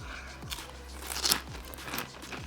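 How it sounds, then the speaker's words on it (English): Crunchy chewing of a peanut beef satay pho bowl. Repeated bites and crackly mouth sounds come close to the mic, with one louder crunch partway through and no talk. "He hears me chewing and eating"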